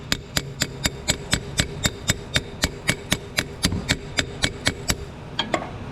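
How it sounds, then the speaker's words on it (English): A weighted tool taps a flathead screwdriver to wedge a CV axle seal on a Toyota Camry, giving about twenty sharp metallic taps at a steady, even rhythm, close and clear with no talking. "Get yourself a tool that's got some weight behind it. Just give it some taps."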